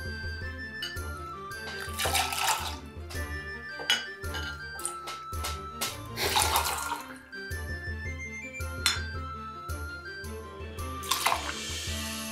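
Pineapple juice pours into a cocktail shaker already holding muddled fruit, ice and lime juice for a Painkiller cocktail, heard as several splashing pours mixed with glassy clinks and clatter.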